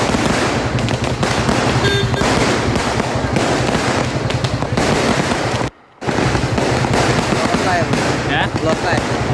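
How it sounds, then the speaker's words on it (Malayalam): Firecrackers burst at a wedding celebration on a state highway in a Kerala town, a loud, dense, rapid string of cracks and pops rattling on almost without break, with one brief pause midway. "പേരോട് ടൗണിലാണ് ഒരു കൂട്ടം യുവാക്കൾ ഗതാഗതം തടസ്സപ്പെടുത്തി പടക്കങ്ങൾ പൊട്ടിച്ചത്."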